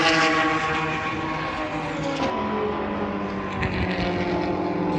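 Cars at a track day run by a racing circuit, engines droning loudly and continuously with pitch shifting as they pass, a Doppler-like sweep as one goes by, heard from trackside without talk.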